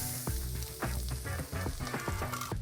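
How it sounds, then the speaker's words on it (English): Garlic sizzles in hot oil in a wok, a steady bright frying hiss with soft crackle and a few tossing scrapes, close and continuous with no talk. "we're just going to get that all around the wok, get that back on, and for only about 30 seconds, gonna put the garlic in"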